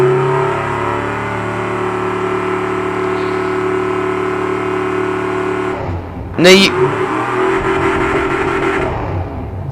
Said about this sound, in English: let me start the engine up again and throttle this thing up all the way